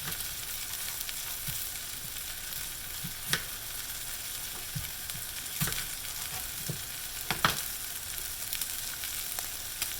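Peppers and onions fry and simmer in a pan for Cuban black beans with chicken, a steady close sizzle with scattered pops and crackles throughout, no talking.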